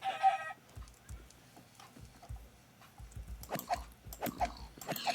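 Minecraft chickens cluck in short, scattered bursts over soft game ambience, a few brief clucks near the start and more clustered toward the end, fairly quiet with no talk.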